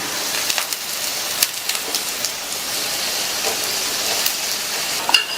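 Onion roti cooks on an oiled pan with a constant close sizzle, broken by a few small pops and crackles.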